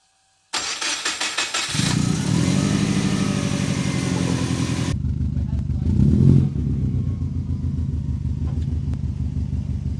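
A car engine with a Group N engine mount conversion revs up loudly, then settles into a steady, close rumble as the vehicle pulls away.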